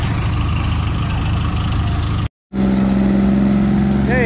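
An Oliver Super 99 tractor pulling a heavy sled at a tractor pull on a slippery track, its engine roaring loudly and steadily, cutting out abruptly for a moment, then returning with a strong droning tone.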